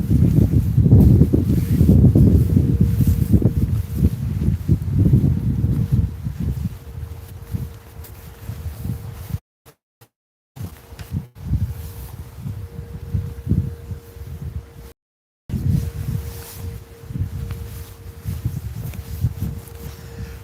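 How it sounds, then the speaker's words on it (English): Wind blows across an open park, heavy rumbling buffeting on the microphone that is loudest at first, then eases and comes in uneven gusts with brief dropouts, no speech. "Woo, it's windy out here."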